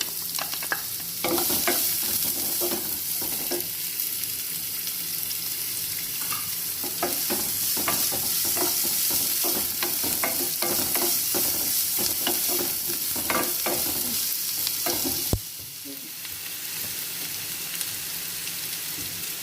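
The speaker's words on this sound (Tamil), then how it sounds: "சீரகம் பொரிஞ்சோடனே இந்த வெங்காயம் கட் பண்ணியிருக்கோம்ல, அதை போட்டு வதக்கிக்கலாம்" Cumin seeds and chopped onions sauté in a pan for vegetable cutlets, a dense crackling sizzle with repeated spatula scrapes and taps, dropping abruptly in level near the end, with no voices.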